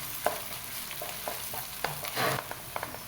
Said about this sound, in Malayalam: ഇഞ്ചി വെളുത്തുള്ളിയും നന്നായി മൊഴിഞ്ഞിട്ടുണ്ട്